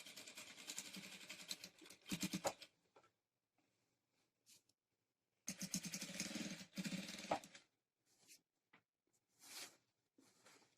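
A sewing machine stitches along old silk pattu saree cloth in two long runs of fast, rattling needle strokes, with short pauses and brief handling noises between them.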